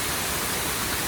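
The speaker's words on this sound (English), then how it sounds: "Oh, a hidden waterfall." Small hidden waterfall along the Akaka Falls hiking trail in Hawaii, a steady broadband rush of falling water, close and continuous with no other sounds.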